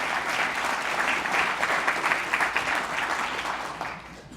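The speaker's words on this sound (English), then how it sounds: "Yes, it's a round of applause." A round of applause from the audience at a city's state-of-the-city address, steady dense clapping that holds evenly for several seconds before tapering off at the end.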